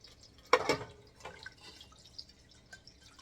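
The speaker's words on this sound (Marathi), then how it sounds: "सो पाणी ॲड करूया." Water is poured along the side of a pot set up as a steamer with a sieve, for steaming Maharashtrian phoonke: one short, close splash at about half a second, then a faint trickle and near silence.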